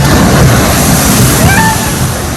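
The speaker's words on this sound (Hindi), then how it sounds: "बहुत ज़्यादा पानी उछल रहा है" Water crashes and splashes in a steady loud rush at the Ripsaw Falls log flume ride at Universal's Islands of Adventure in Orlando, with no voices.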